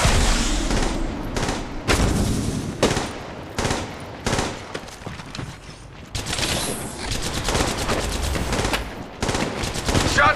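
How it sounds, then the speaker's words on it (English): Rapid automatic gunfire from Apex Legends Mobile, loud and close, with repeated bursts of shots and sharp impacts running through the whole stretch and only brief gaps between volleys. "Shots fired."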